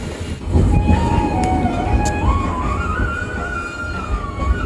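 Historic rail bus running between Mathura and Vrindavan, a steady rumbling roll with rattling underneath and a wavering high whine, continuous and close throughout.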